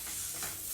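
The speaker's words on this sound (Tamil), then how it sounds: "நல்லா மிக்ஸ் பண்ணி விடுங்க." Almond paste, sugar and ghee being stirred in a pan for badam burfi, a steady soft scraping and faint sizzling, close and continuous with no talk.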